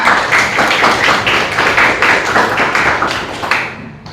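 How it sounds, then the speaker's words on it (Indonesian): Students in a classroom clap for a classmate, a close, loud patter of hand claps in a loose rhythm that fades out just before the end. "Tepuk tangan buat Raisa."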